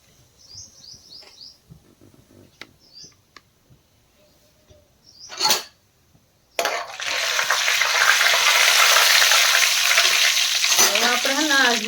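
Crushed cumin drops into a hot pan and bursts into a loud, steady sizzle that continues to the end, preceded by quiet clinks and faint bird chirps in the background.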